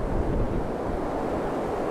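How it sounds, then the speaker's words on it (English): Strong, gusty wind roars steadily outdoors on an open walk, buffeting the microphone with a loud, continuous broadband rush and no voices. "Oh, listen to that wind."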